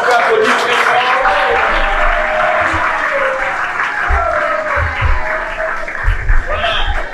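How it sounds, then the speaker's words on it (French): An audience at a school science outreach event gives loud, sustained applause that fills the room, with a few voices audible through the clapping near the end. "on peut applaudir très fort."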